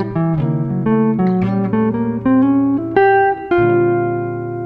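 A jazz lick over rhythm changes built on a diminished sound, played as a quick run of clear melodic notes with a steady pitched tone, close and loud, with no voices.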